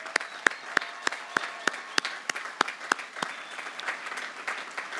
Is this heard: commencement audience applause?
yes